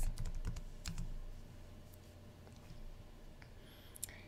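Quiet keystrokes on a computer keyboard as a search term is typed, a scattered run of soft clicks over faint background hum, mostly near the start.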